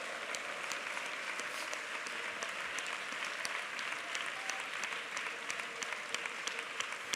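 A church congregation claps hands in praise during a Sunday worship service, a steady, dense, sustained applause with a roomy, moderately distant sound and no speech over it.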